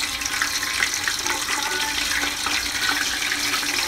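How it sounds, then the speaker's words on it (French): Chicken thighs browning uncovered in a pan for a Senegalese thiep blanc give off a steady, dense sizzle that holds evenly throughout, with no talking. "Vous entendez le frémissement, ça veut dire que c'est ok."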